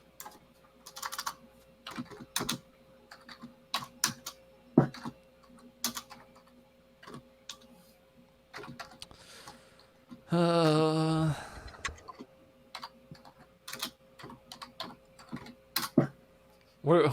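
Quiet, irregular keyboard typing clicks in bursts, with a short distorted voice-like sound in the middle and a faint steady hum behind.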